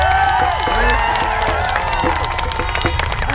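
Large crowd at an animal rights demonstration shouting and cheering together, a loud continuous roar of many voices with scattered whoops.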